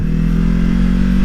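A 2020 Yamaha R3 motorcycle engine drones loud and close with a steady rumbling tone around a rough gear shift, no speech.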